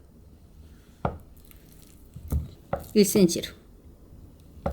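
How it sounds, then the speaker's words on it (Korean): A knife slicing a block of Spam into 1 cm pieces for spicy Spam gimbap, heard as a few soft, close chopping cuts on a board while someone talks over the work. "편을 썰어 주세요."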